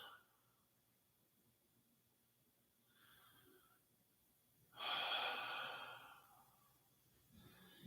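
Slow breathing during a passive stretch, quiet drawn-out inhales and a louder, longer exhale, close to the listener with a soft background hum and no talking.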